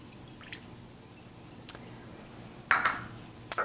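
Balsamic vinegar is poured over raw kale being dressed for kale chips, making a faint, brief wet splash and drip that swells near the end of a quiet stretch, with no voices.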